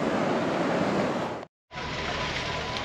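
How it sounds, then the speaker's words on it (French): Sea waves breaking on a Corsica shore make a steady, loud wash of surf that fills the whole clip, cut by a brief full silence partway through, with no voices. "Par contre il y a un peu plus de vagues, donc on va tâcher d'être prudent."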